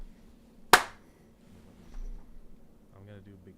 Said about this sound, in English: I'm gonna do a big clap.